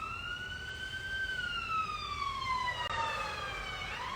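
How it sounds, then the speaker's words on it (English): An emergency vehicle siren passes by, its steady wailing tone sweeping slowly up and down and dipping as it goes, loud and continuous with no talking. "It's a siren going by."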